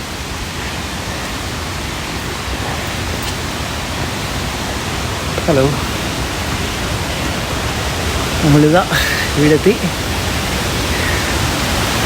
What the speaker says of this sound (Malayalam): ഓ, ഈ വെള്ളച്ചാട്ടം കണ്ടോ